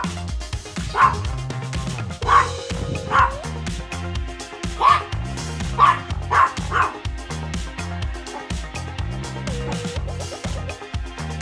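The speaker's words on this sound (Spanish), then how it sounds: "Son las mascotas de mi mamá, unos perritos pinches." Small dogs kept as pets yap in short, sharp bursts, several barks in quick clusters spread across the stretch, set against steady background music.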